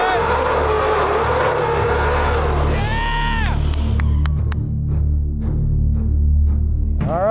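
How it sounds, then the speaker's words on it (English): At Tucson Dragway, a custom Ford Mustang burns out at the strip. A loud, sustained engine roar gives way to sharp squeals and a few popping bursts, with crowd noise and voices around it. "Let's see some burnouts"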